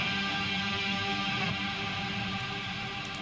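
A low-tuned Drop G metal guitar run through a pitch shifter placed after the cab sustains a dense, heavy, droning wall of tone at an even level with no voices.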